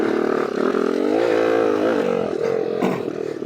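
A CR80 motorcycle engine runs steadily while being ridden around an open riding area at Lake El Reno, a close, continuous drone whose pitch rises and falls slightly with throttle, with no voices.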